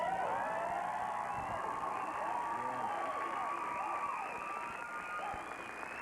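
A talk show studio audience applauding and cheering Michael Jordan, a dense sustained wash of clapping with whoops and shouts over it, loud and close throughout and easing slightly at the end.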